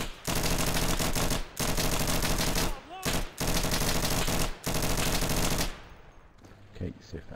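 Four long bursts of automatic gunfire in the video game Insurgency, set in a district street, with short gaps between the bursts. Quieter scattered shots and game sounds follow as the firing stops.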